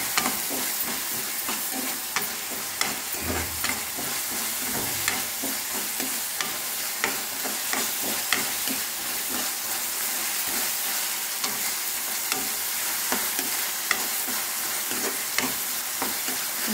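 Food fries in a pan with a constant sizzle while a utensil stirs it, giving repeated scraping taps throughout at close range.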